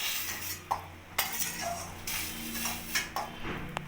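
Roasted halved tomato is lifted out of a pan with a utensil, making close scrapes and light metallic clinks and taps against the pan over a soft background hum.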